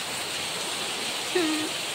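Heavy monsoon rain pours steadily in Mumbai, a dense, even hiss that fills the whole scene without a break, with a brief faint tonal squeak near the end.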